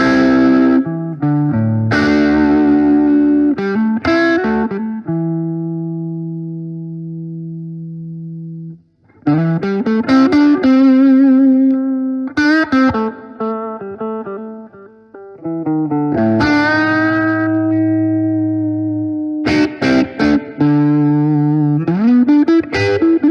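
A Paul Reed Smith electric guitar with humbucker pickups plays through effects, giving a clean, ringing, chorus-tinged tone: strummed chords and sustained notes in phrases with brief gaps, loud and close with no talking.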